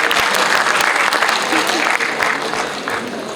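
Dense applause from an audience at an International Women's Day gathering, steady and close for the whole stretch, with a faint voice or two beneath the clapping.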